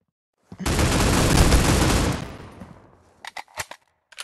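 Rapid automatic gunfire from the first-person shooter game Critical Ops rattles in one loud sustained burst of about two seconds, then tails off into a few faint, scattered shots and clicks.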